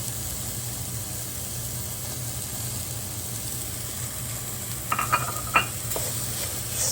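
Dosa masala with green chili, salt, turmeric and coriander powder being stirred in a pan on a medium-high gas flame, a soft steady sizzle with a few light scraping clinks toward the end.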